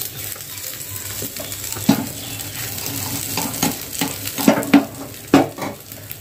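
An egg fries with chili, onion and coriander over a high gas flame, a steady sizzle under scattered scraping and clinks of a spatula against the pan, no talking.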